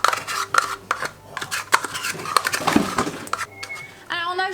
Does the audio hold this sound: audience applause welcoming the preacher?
no